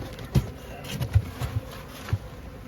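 Honeybees hum softly around spring beehives during colony build-up, a faint, steady buzz with a few brief low thumps scattered through it.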